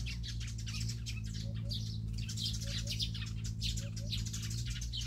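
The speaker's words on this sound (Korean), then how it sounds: "새소리 보세요." Small birds chirp and sing in short repeated calls at a flowering iris park in Geochang county, South Korea, over a steady low background hum, moderately near and clear.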